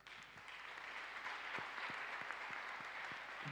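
Worshippers in a church service clap together in praise of Jesus Christ, a continuous wash of crowd applause with a soft pulsing rhythm beneath and a few voices rising faintly.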